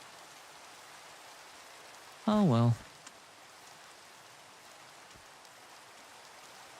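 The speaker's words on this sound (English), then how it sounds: "And it's raining." Rain in the Minecraft SMP video game, a soft steady hiss of falling rain throughout, with a brief spoken remark over it partway through.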